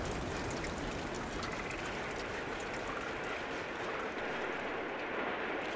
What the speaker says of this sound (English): And it's raining still.